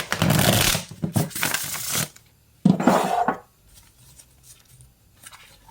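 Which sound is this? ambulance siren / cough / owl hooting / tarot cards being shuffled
tarot cards being shuffled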